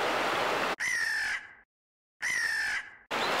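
Crows caw loudly and close up in two harsh, drawn-out calls separated by sudden silences, the noisy background cutting in and out around them.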